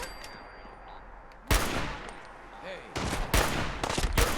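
Sniper gunfire in the Fallout 4 video game during a settlement battle: a loud close shot lands after a quiet stretch, then several more sharp blasts crack in quick succession toward the end.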